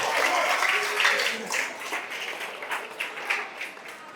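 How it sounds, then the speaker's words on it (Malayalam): Applause from an audience at a school football event at GVHSS Nandikara for prize winners in a shootout contest, a crowd clapping throughout under a loud announcer's voice over a PA, moderately near. "കയ്യടി, നല്ല കയ്യടി കൊടുക്കുക."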